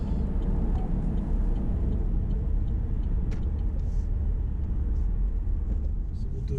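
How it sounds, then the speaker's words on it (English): A VW e-Golf electric car rolls along at road speed, its steady tyre and road rumble droning evenly throughout with no voices. "So we'll do a drive-by here."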